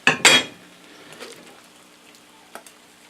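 Omelette-topped ramen gets flipped in a frying pan: two sharp, close clatters of pan and utensil open the moment, then it quiets to a low hiss with a small knock shortly after.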